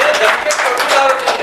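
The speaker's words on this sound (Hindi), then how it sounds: "पूरा परिवार के लिए ताली बजा दो।" Audience applause for a whole family at a Jeevan Vidya introductory camp session in Bhilwara, a brief steady wash of many hands clapping together, dense and even throughout.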